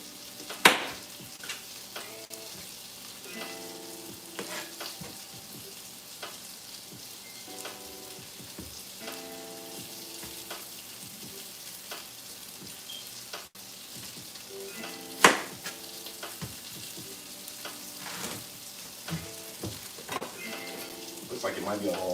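Cabbage frying in a pan, a steady soft sizzle running throughout with scattered pops and a few sharper clatters, with faint background tones.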